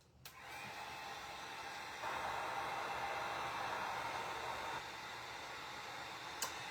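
A hair dryer blows steadily on crackle paint, a continuous airy whoosh that steps up louder partway through, then drops back, with faint clicks at the start and end.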